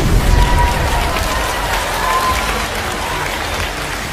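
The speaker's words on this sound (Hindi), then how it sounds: "चाहता हूं कि आपकी तालियां जोरदार बजे।" An audience at an RCM 20th anniversary session claps loudly and continuously, a dense wash of applause that holds strong for about four seconds.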